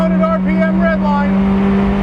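A 2017 Mazda MX5 Cup race car on track revs hard near redline, heard from inside as a loud, steady engine drone with layered harmonic whine that rises slightly and then holds.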